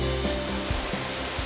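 Jikso Falls in Naebyeonsan near Buan pours water in a steady, close, broadband rush that holds at an even level for the whole stretch, with low tonal hum beneath it.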